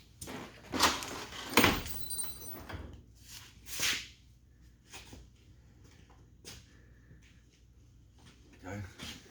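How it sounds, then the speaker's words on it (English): Plastic clips snap and scrape as a door panel is pried off a Chevy 2500 HD rear door, a few sharp close bursts of clatter and rustle, then softer handling knocks. "The door panel comes out."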